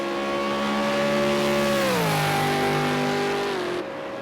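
A race car's engine drones steadily in the distance during a circuit race, its pitch holding and then dropping as it nears and lifts off for braking, loud and alone before cutting away.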